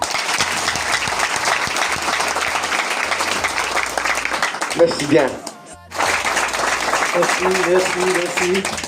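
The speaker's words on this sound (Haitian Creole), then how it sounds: "Mandez-nous applaudir encore." A crowd applauds steadily and loudly, the clapping broken by a brief lull before resuming, with someone speaking over it at one point.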